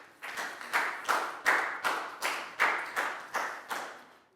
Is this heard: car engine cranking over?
no